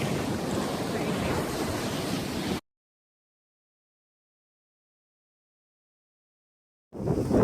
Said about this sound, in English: With the winds like this, the waves like this, you can see why Paul wanted to wait until the springtime to sail.